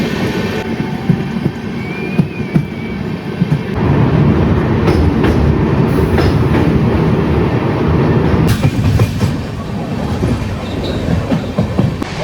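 The Sealdah–Jammu Tawi Humsafar Express runs at speed through Punjab, a loud, steady rumble of carriages with a rhythmic clickety-clack of wheels over rail joints and brief metallic squeals, heard from on board.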